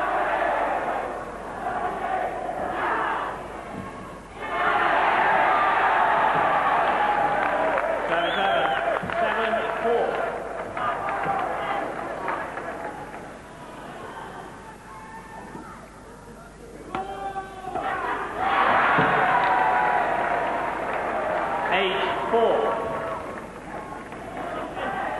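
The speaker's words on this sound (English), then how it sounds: "Sidek plays well, the crowd rise." Arena crowd at the 1996 All England badminton championships swells into loud cheering and applause in surges, easing between bursts, with a commentator's voice heard over the noise.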